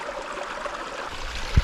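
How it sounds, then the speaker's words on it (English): Mountain creek water flows along a trail near Rockbound Lake, a soft steady rushing trickle close by, ending with a brief low thump. "Always good to get some fresh creek water."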